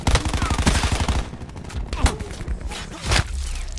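Rapid automatic gunfire in Call of Duty Black Ops 4 multiplayer, a fast burst of close shots followed by scattered single cracks and game noise.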